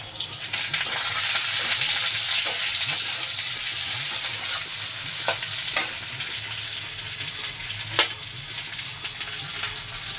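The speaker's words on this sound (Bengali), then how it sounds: "এখন কচুর শাক বসাবো এখানে দিয়েছি কালো জিরে তেজপাতা আর হচ্ছে থেতো করা রসুন আর ছোলা" Taro greens fry in a pan with black cumin, bay leaf, crushed garlic and chickpeas, giving a loud, steady sizzle throughout, with a few sharp clinks of stirring.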